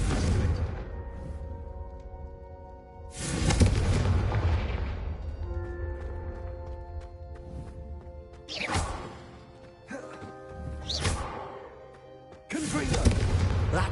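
A Confringo fire spell in Hogwarts Legacy, cast again and again, giving loud bursting blasts that erupt in several separate booms with quieter stretches between them.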